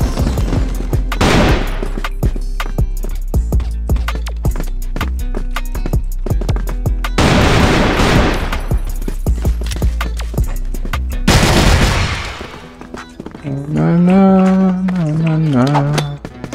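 Loud, dense bursts of automatic gunfire fill a video game firefight, with heavier blasts suggesting a grenade, broken by a short pause before a final stretch of game audio.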